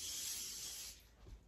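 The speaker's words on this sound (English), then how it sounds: "we're just going to spray the blankets" Disinfectant sprayed onto household blankets, a close, soft hiss for about a second that fades into quiet handling noise.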